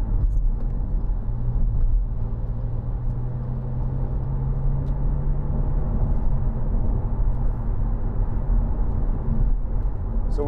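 The 3.0 TFSI supercharged V6 of a 2011 Audi S4 Avant on the move, heard from inside as a steady low rumble with a faint rising drone, continuous and moderately loud.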